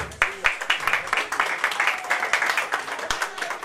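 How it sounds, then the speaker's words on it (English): Hall guests at a Mother's Day event in Stuttgart clap together in a lively, slightly uneven burst, individual claps popping out of the crowd noise before the applause gradually thins toward the end. "And another round of applause for Mr."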